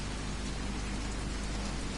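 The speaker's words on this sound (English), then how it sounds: "see the rain dropping down through the light off the headlights" Heavy rain in The Crew 2 pours down in a dense, even hiss with no pauses, loud and close, alone without speech.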